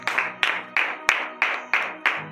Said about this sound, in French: veuillez vous lever sur vos pieds et donner de vives acclamations à notre Seigneur Jésus-Christ